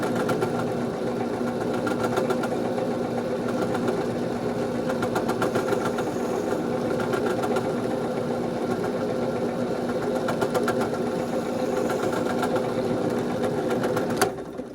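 A power drill bores holes into the bottom of a wooden shoe for dowels, a steady whirring motor hum that holds for several seconds before stopping abruptly at the end.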